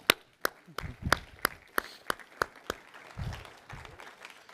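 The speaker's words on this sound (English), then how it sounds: "let's have a round of applause for Lehigh women" A small audience at a university event gives a brief, sparse round of applause, with a dozen distinct claps in a loose rhythm, fairly faint, then a few low muffled sounds.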